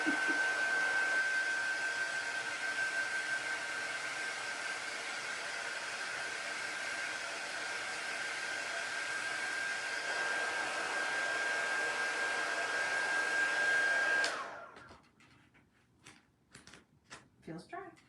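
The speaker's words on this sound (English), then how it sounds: "I am going to hit that with the air dryer because it does need to be dry" Handheld air dryer blowing onto a silkscreen during a chalk-paste botanical craft project: a loud, steady whoosh runs for about fourteen seconds, then cuts off, followed by a few quiet clicks and handling noises.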